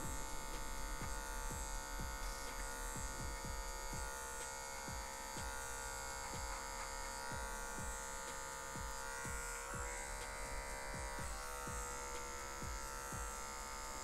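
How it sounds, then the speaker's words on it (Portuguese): An electric hair clipper set to zero passes over a comb while cutting a low fade, holding a close, steady buzz throughout with a rhythmic pattern of strokes beneath it. "vem com a maquininha na zero passando por cima do pente"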